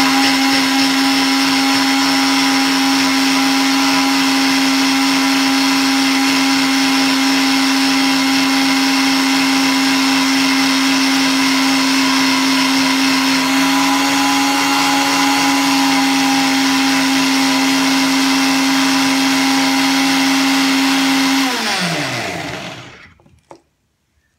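A blender whirs steadily for over twenty seconds, mixing pomegranate juice with half a glass of milk, its motor drone loud and constant before winding down and stopping at the end.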